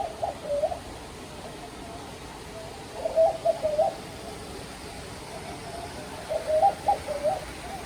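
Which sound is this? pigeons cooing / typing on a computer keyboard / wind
pigeons cooing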